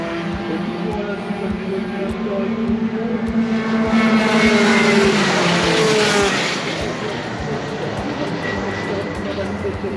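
Racing karts doing 140 to 150 km/h scream past close by at a race weekend, their engine whine rising and then falling away as they pass the barrier, with people talking over the noise.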